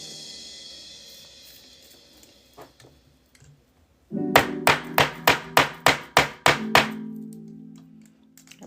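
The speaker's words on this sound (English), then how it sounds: "when you hammer down on copper, it turns it hard." A hammer strikes copper stock for a bracelet in a steady series of about nine sharp metallic blows, close and loud, after a few quieter taps and handling sounds.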